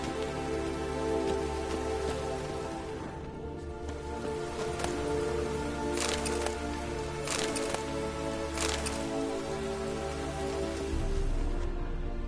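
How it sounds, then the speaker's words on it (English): Steady rain patters in The Witcher 3, a soft continuous wash of drops on the ground with a few brighter splashes standing out, while a low music bed hums underneath. "Looks like rain."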